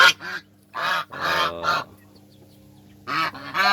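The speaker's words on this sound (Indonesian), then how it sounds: "Nah, ini angsa." A goose kept as a poultry guard honks loudly and close by, a burst of several harsh nasal honks, a pause of about a second, then two more honks.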